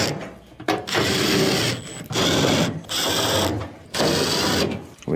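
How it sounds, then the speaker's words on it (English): A power driver runs in repeated whirring bursts as quarter-inch screws are driven back into a clothes dryer cabinet, four loud spells separated by short pauses, close and without talk. "Next, go around and reinstall all of your 1/4-inch screws."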